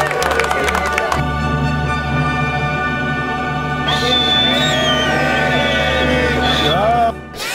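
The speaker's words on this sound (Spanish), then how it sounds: "Pido un aplauso para todos los participantes." A crowd at a sports final breaks into applause and cheering for all the participants. The clapping swells and stays loud under continuous background noise, and voices are heard over it.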